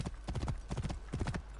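Hooves clip-clopping in a quick trot from a horse in Assassin's Creed Origins, with steady close hoofbeats in regular groups and a short whinny mixed in.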